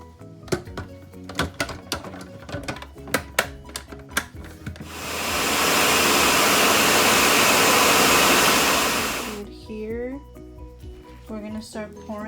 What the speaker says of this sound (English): And then now we will blend it.